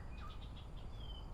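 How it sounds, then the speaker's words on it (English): Small birds chirp faintly in a shady riverside nature park beside Sungei Seletar, with short intermittent high calls spread through a distant outdoor hum and no talking. "I could hear the chirping of birds"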